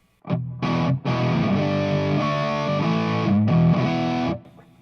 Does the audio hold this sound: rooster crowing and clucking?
no